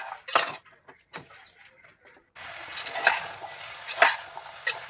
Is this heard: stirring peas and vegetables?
yes